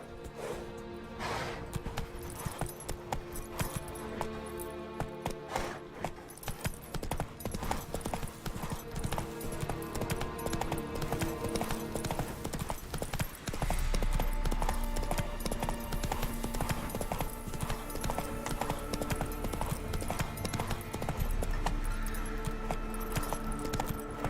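Horse hooves clip-clop in a steady rhythmic gallop in The Witcher 3: Wild Hunt, with tack jingling alongside, loud and continuous over a game soundscape that gains a deeper rumbling layer partway through.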